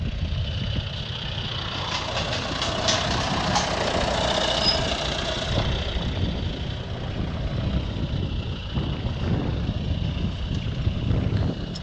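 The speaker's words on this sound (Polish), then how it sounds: "Tutaj 5090M John Deere jedzie." A John Deere 5090M tractor drives past in a field during preparations for a pumpkin seed harvest, giving a steady engine rumble mixed with wind buffeting on the microphone. It swells slightly midway.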